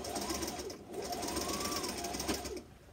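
A sewing machine stitches a fabric face mask in a steady near run, pausing briefly near the start and stopping shortly before the end, with faint background noise throughout.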